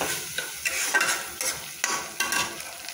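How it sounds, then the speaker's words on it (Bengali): Potatoes stirred into a sizzling spice paste for a Bengali egg and potato dum, with repeated scraping stir strokes over a steady frying hiss, close and fairly loud. "মশলাটা কষা হয়ে গেছে, এবার আমি আলুগুলো দিয়ে দিলাম।"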